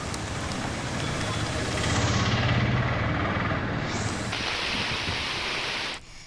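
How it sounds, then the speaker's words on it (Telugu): Heavy rain in Hyderabad roars in a dense, continuous wash of noise that cuts off abruptly near the end. "తెలంగాణలో పలు ప్రాంతాల్లో వర్షం కుమ్మేస్తుంది"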